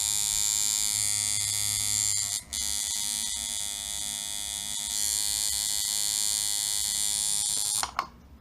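A tattoo machine, tuned for stroke length and speed, runs steadily with a bright electric buzz and high whine for several seconds, cutting out briefly once before stopping near the end.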